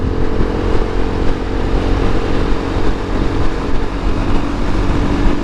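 A 2019 KTM 690 SMCR motorcycle is ridden through curves on a country road, its single-cylinder engine droning steadily under heavy wind noise, close and loud, with slight surges and no talk.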